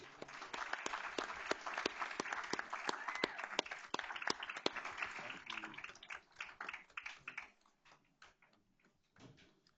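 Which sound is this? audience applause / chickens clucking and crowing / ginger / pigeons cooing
audience applause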